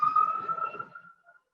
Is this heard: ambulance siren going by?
yes